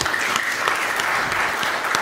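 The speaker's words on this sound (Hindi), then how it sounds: "आप सब एक बार खुद के लिए तालियां बजा दीजिए।" A live comedy-show audience applauds itself, a dense, steady wash of clapping from many hands that fills the room evenly, with no voices rising above it.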